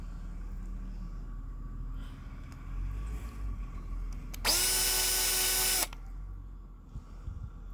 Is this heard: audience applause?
no